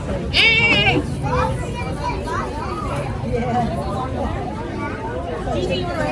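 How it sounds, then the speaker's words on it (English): Goats bleating among a lively crowd at the Orange County fairgrounds, with children's voices and chatter throughout; a sharp bleat stands out early, others mixed into the hubbub. "Let's go see the goats"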